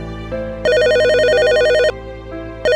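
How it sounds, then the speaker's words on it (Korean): A sharp telephone bell rings in a quiet living room, loud and close, in short bursts followed by a long sustained ring, then starting again, with no other sound. "고요한 거실을 찢는 날카로운 전화벨 소리가 울렸습니다."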